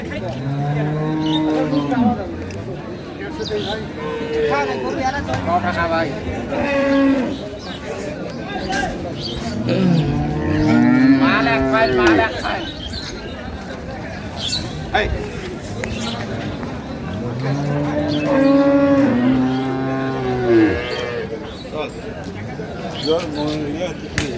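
Cows and calves moo repeatedly at a busy cattle market in Dinajpur, long drawn-out calls rising and falling close by, some overlapping, with people talking and bargaining throughout.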